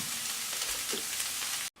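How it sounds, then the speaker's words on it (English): Mushrooms and pork fry in a pan with a dense, steady sizzle heard close up and alone, cutting off abruptly at the end. "The mushrooms you stir around for about 3 to 4 minutes"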